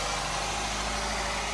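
A 2013 Nissan Altima engine idles steadily with a worn motor mount, giving a continuous low hum and mild vibration at moderate loudness with no voices.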